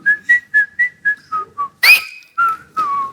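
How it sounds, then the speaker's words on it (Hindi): A woman whistles a loud, clear tune of short repeated notes, followed by a sharper high burst and a few longer held notes, close and alone. "मैडम मैंने सुना आप सीटी काफी अच्छा मारते हो"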